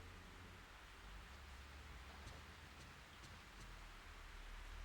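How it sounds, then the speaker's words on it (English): Steady rain falls in the survival horror video game Fatal Frame 3, a quiet, even hiss of drops with low rumble underneath and a few faint ticks, continuous throughout with no voices. "It's raining again."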